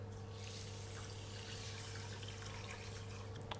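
Water runs into a saucepan holding rinsed rice, making a soft continuous trickling pour at low level against a steady hum, with no voices.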